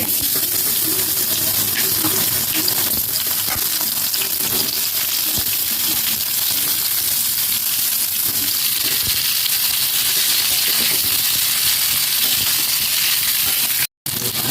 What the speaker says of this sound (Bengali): এবার আমি লম্বা লম্বা কেটে রাখা উচ্ছে আর আলুগুলোকে ভেজে নেবো